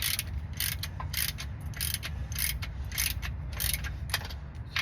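A hand ratchet fitted with a deep socket clicks quickly and close, in steady bursts of sharp metallic ticks, while loosening the slave cylinder nuts during transmission removal on a 2003 Jeep TJ.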